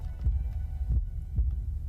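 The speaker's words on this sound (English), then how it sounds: "Why does it have a heartbeat?" A parasite's heartbeat in a video game, three deep, close thumping beats spaced about half a second apart over a low hum.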